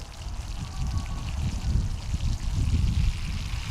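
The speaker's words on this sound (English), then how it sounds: "now we'll give it its first water in its new pot" Water poured onto the soil of a freshly repotted, severely root-bound Lawson's cypress bonsai, a steady close splashing and trickling that runs continuously without pause.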